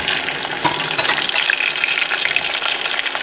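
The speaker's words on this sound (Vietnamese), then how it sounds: "Với cái phần đùi lúc trước mình nốt ra đầu tiên ấy, bây giờ mình sẽ cho vào mình chiên lại ấy." Chicken thigh pieces fried a second time in hot oil, a dense, steady bubbling sizzle with crackling pops throughout, close and loud without speech.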